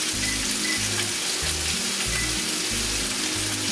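Butter sizzles steadily in a hot frying pan, a continuous close crackle, with low pulsing rumble from the stovetop underneath and no talking.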